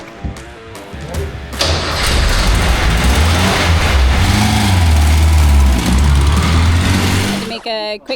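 A car engine cranks with a few clunks, then catches and runs loud and rough, its uneven idle wavering for several seconds before cutting off with thuds near the end; the engine is close, with no clear talk over it.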